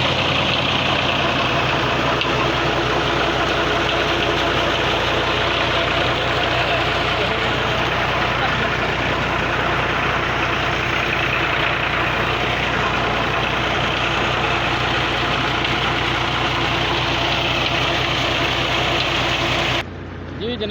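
A farm tractor's engine idles steadily and close by at a tube-well bore, a continuous low rumble with broadband noise that holds for about twenty seconds before cutting off abruptly at the end.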